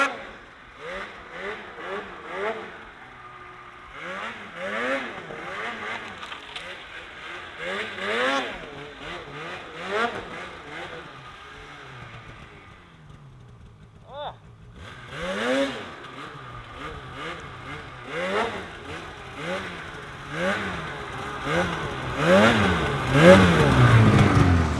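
Snowmobile engine revving while riding on punchy snowpack, repeated rising and falling surges close by, a brief lull midway, then rougher louder throttle toward the end.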